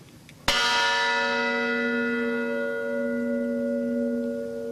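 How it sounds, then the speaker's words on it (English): The bell from the USS Arizona, rung once at a Pearl Harbor attack anniversary commemoration in Hawaii, a single loud clear strike with a long, slowly fading ringing tone. "The bell you will hear is from the USS Arizona."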